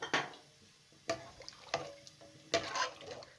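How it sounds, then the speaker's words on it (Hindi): Water poured into a pot of turnip and beef curry, shalgam gosht, giving faint, scattered splashes and pours in a quiet kitchen, with a few sharper bursts. "अब आप इसके अंदर 2 से 3 गिलास पानी शामिल कर दें।"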